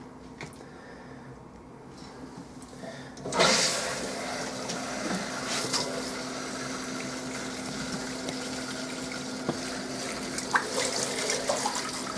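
Water pours into a sink and runs down the drain while a mop bucket is rinsed out, starting with a quiet hum, then a sudden steady rush of running water.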